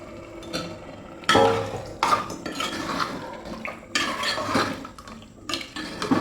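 A steel bowl that held marinating mutton is rinsed and the water is poured into a cooking pot. Metal clatters and knocks loudly several times over splashing and trickling water, with no voices.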